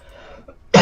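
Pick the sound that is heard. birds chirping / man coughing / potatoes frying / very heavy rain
man coughing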